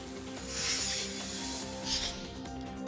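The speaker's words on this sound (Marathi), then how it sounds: "अजूरी जिल्ह्यातील अनेक भागात पावसाची रिपरिप सुरूच आहे." A monsoon downpour in Ratnagiri, Maharashtra, makes a steady, close, dense hiss of falling rain that swells twice in brief louder surges, with no voices.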